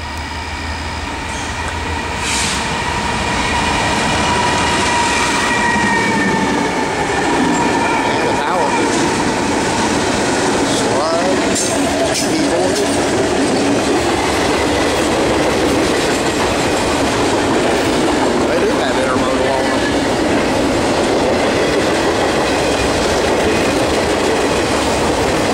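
A short Norfolk Southern manifest freight train led by a CW44-9, SD70ACu and ES44AC rolls past close by, a loud steady rumble with wheel clatter and faint squeal, and a voice speaks briefly.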